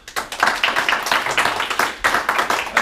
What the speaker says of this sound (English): Let's give AJ another round of applause.